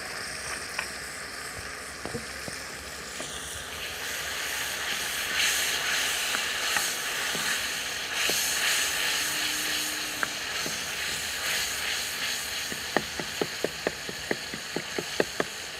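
Steady hiss and sizzle of water poured into a hot karahi while ojhri cooks with turmeric and red chilli, a continuous close steamy rush with small crackles and pops toward the end.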